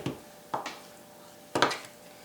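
Three brief knife strikes on a board as room-temperature salted butter is cut into little chunks, each a soft thud with a faint scrape, spaced irregularly and close by in a quiet room.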